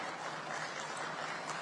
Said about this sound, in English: Can we welcome our dignitaries on dais with a good round of applause